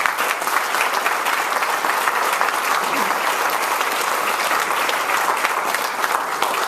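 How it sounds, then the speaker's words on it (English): An audience gives legislators a steady round of applause in a hall, dense even clapping sustained throughout with no break. "I want to give them a round of applause."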